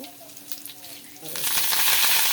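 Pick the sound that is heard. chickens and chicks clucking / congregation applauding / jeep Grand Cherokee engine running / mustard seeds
mustard seeds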